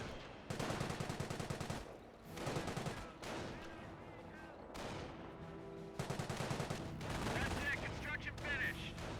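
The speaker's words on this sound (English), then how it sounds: "MMG carrier firing away." Machine-gun carrier fires in the strategy game Company of Heroes: loud, rapid bursts of automatic fire come in several long volleys with short pauses, and heavier battle booms sit underneath.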